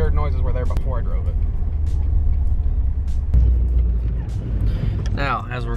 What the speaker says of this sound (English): the car's making weird noises